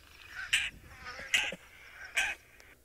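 Three loud, harsh, raspy calls from a lilac-breasted roller, evenly spaced and heard alone against a quiet outdoor background on safari.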